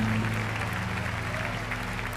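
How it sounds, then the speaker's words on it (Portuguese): A church congregation applauds during an evening worship service: a dense, steady wash of clapping over sustained background music. "Aplauda Ele, igreja, aplauda mesmo."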